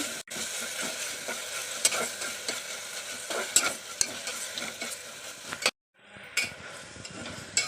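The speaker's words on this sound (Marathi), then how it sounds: "एक चमचा चांगली परतून घ्यायची" A spoon stirs and sautés ginger-garlic paste and ingredients for veg pulao in a sizzling pan, a steady frying hiss with repeated scraping clicks of the spoon and a brief drop to near silence before the sizzle resumes.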